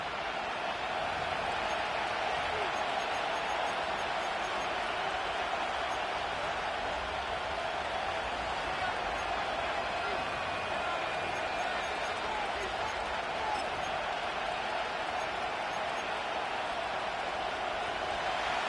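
Steady, even roar of a stadium crowd in an EA Sports football game, a continuous broadband wash of cheering noise at moderate level with no distinct breaks.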